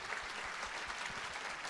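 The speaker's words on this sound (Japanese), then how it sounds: "大きな拍手" Applause rises from an audience at a Nagoya Grampus 2016 season team launch event, a brief, even wash of clapping heard from a distance, steady and without talk.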